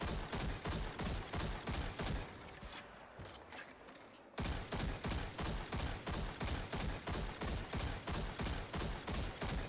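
Scout rifle fire aimed at an ogre in the Destiny 2 video game: a steady string of sharp, evenly spaced shots, loud and close, breaking off for about two seconds before resuming at the same rhythm.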